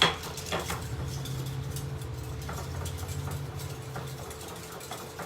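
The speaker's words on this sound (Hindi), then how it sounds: "बढ़िया से इसे मिक्स कर लेते हैं" Paneer shawarma marinade is stirred in a bowl, a quick run of close, rhythmic scraping and clinking from spoon on bowl, fading toward the end over a low steady hum.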